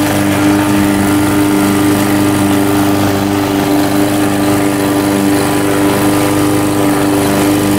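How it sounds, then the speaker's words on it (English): An old lawnmower engine runs loud and close with a steady droning hum that holds level throughout, no voices over it. "This is my grandpa lawnmower."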